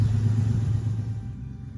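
An old car engine idles steadily after starting, a deep low rumble running continuously and fairly close, easing slightly toward the end with no voices over it.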